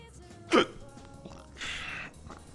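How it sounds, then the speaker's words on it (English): A character in the video game Persona 3 Reload gives a single sharp, breathy hiccup, then a softer hiss follows about a second later. "got the hiccups"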